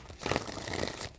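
Tarot cards are shuffled three times in quick succession, giving a soft, papery crinkling and riffling that runs steadily for about a second, close and fairly quiet, with no voices over it.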